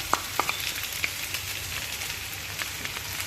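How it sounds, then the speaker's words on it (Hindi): Chopped cabbage frying in a pan with vegetables, a steady close sizzle with a few soft clicks and stirring taps early on, no voices. "इस पॉइंट पे हम लोग बंद गोभी डाल देंगे"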